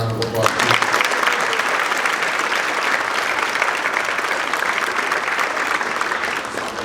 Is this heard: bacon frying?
no